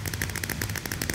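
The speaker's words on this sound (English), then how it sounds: "There's a lot of firework noises" Rapid crackling fireworks burst in steady repeated pops from a Minecraft minigame, a dense, loud volley of sharp bangs running continuously without pause.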